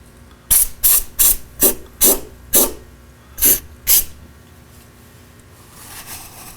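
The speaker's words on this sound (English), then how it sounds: "And a little spritz of undercoating." Undercoating is sprayed from an aerosol can in eight short, sharp bursts at a steady rhythm near an onboard air compressor install, each hiss close and loud, followed by quieter background.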